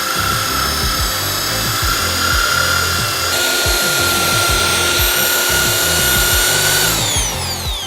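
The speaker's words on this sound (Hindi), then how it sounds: "ड्रिल में जो बिट है उसकी जगह ब्रश घूम रही है" A power drill fitted with a scrubbing brush in place of its bit whirs steadily inside a bucket of potatoes and water, a loud continuous motor whine over churning, rubbing clatter, pitch dropping briefly near the end.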